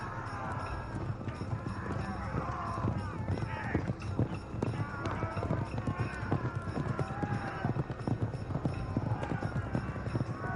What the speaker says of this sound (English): The signal for attack is sounded, and the chariots charge.